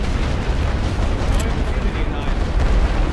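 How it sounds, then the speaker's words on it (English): Gunfire and heavy booming from the Great War Western Front game fill a dense, constant roar of distant battle noise, with no clear breaks between shots. "We are getting shot at"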